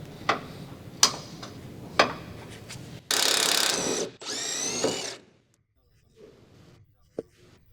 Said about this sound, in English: Using an 18mm wrench with a 15mm deep socket on your impact, remove the upper shock mounting bolt and nut.